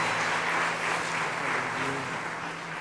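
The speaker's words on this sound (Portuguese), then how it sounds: "Aplauda o Senhor Jesus, amém?" A church congregation at a youth worship service applauds steadily for a few seconds, a dense, continuous wash of clapping that fades slightly toward the end.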